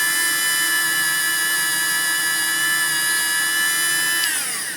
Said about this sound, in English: you saw me carving away quite some material with this tear-shaped burr